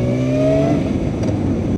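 A Kawasaki Ninja ZX-9R motorcycle engine idles with unsteady revs, a loud, close low hum whose pitch dips and wavers, heard alone without talk.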